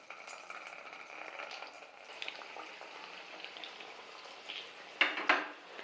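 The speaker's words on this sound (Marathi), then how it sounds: "आता आपण यामध्ये वड्या ह्या तळून घेऊया" Pieces of maswadi fry in medium-hot oil, giving a faint, soft sizzle with light crackling that ends in a couple of sharper pops.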